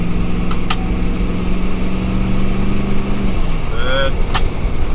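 Twin turbo V8 Landcruiser runs through its gears, a low, steady engine tone that drops at a shift near the midpoint, with brief squeaks and a voice speaking briefly over the engine later on.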